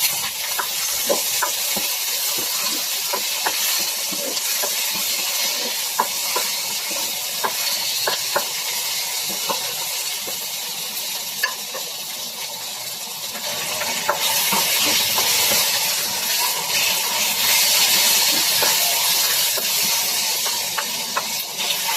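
Chopped tomatoes cook in a pan, giving a long, steady sizzling hiss dotted with small crackles and pops that swells slightly louder in the second half.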